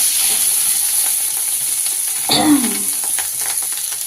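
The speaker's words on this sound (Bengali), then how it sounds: "ফুলকপি আলুগুলো ভাজা হয়ে গেছে আমার।" Cauliflower and potatoes fry in a pan with a steady close sizzle, broken near the middle by a brief clatter and scrape of stirring.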